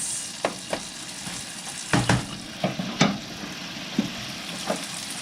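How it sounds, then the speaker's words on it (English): Chicken pieces for bourbon chicken fry in a skillet, giving a steady close hiss with scattered louder pops and crackles as the pieces are stirred and moved around the pan. "You can hear them sizzling."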